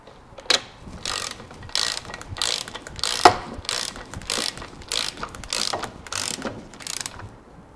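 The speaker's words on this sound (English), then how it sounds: "we're going to torque those to 47 foot-pounds" A ratchet wrench clicks in steady repeated strokes while tightening bolts on a Toyota Land Cruiser split-case transfer case during a rebuild, close and alone with no talking.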